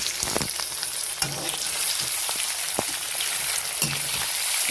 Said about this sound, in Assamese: ভালদৰে ফ্ৰাই কৰি লওঁ।